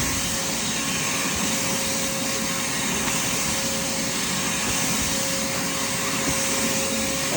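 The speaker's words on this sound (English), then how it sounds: "Look at the suction of this machine." A vacuum cleaner runs continuously over a doormat, a loud, steady motor whine with a constant tonal hum and rough suction noise that barely changes throughout, heard alone without any talking.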